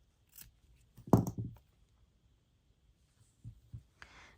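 Scissors snipping crochet yarn flush while finishing a coquette bow, a close, quiet cluster of crisp cuts followed by a couple of softer snips; no speech.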